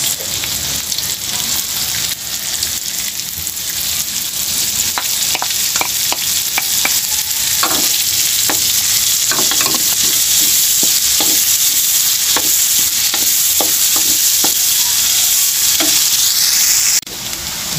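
Onions frying in a pan of shrimp paste with pork, a steady loud sizzle with repeated sharp scraping clicks of a spatula stirring through the middle stretch, no voices.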